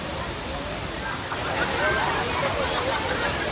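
Jungle waterfall near Khopoli, Maharashtra, rushing in a steady broadband roar of falling water, continuous and fairly loud, heard at its base.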